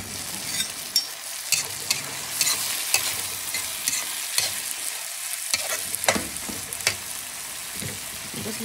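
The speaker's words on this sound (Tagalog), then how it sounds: "Guys, karga ang ating pritong bangus guys." Milkfish (bangus) frying in a pan, a loud, continuous crackling sizzle close by, broken by scraping stirs and sharp spatters throughout, with no voices.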